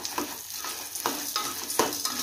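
Sago pearls frying in ghee while being stirred, a soft steady sizzle broken by several scraping strokes of a utensil against the pan, close and fairly quiet.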